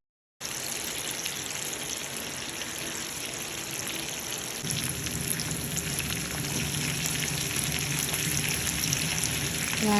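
Chicken pieces frying in sunflower or coconut oil in a pan for Thalassery chicken biryani, a steady broadband sizzle that starts abruptly and swells slightly louder and fuller midway, continuous and close with no talking.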